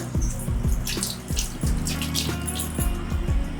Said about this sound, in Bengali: যেটুকু আমি সর্ষেটা ধুয়ে নিলাম